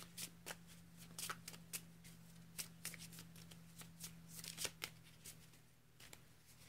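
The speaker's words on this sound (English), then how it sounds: "Shuffle our hand into our deck." Pokémon trading cards being shuffled into a deck during a match, a soft, close series of quick riffling and slapping card sounds in an irregular rhythm, with no talk.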